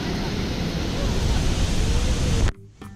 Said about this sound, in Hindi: यह झरना 20 मीटर की ऊंचाई से गिरता है।